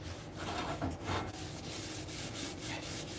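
Oil being rubbed around inside a hot pan, a steady close scrubbing and wiping sound that runs continuously with small surges in intensity, no voices.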